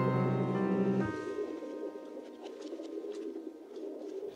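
Pigeons or doves coo softly in a steady stream of low murmuring calls, with a sustained musical tone fading out early, no voices present.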